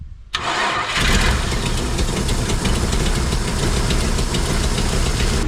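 A Holden VN Commodore engine cranks briefly and catches, then settles into a loud, steady, close-up idle that runs on without pause.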